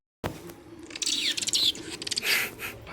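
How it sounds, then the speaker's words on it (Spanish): Busy bird chirping fills the space with quick, high, overlapping tweets and trills that keep going without a break, fairly close and with no talking. "Pájaro."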